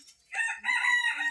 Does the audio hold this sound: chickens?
yes